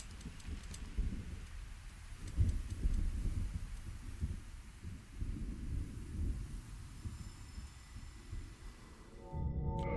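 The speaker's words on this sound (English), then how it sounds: "I do enjoy the thunder sounds" Low, rolling thunder in the video game Dark Souls Remastered: a continuous deep rumble that swells and fades in waves for several seconds, with faint ticking and hiss above it.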